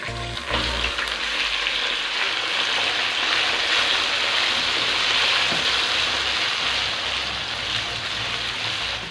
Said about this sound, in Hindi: चिकन को भी लाइट ब्राउन करने के लिए 2 से 3 मिनट के लिए भूनेंगे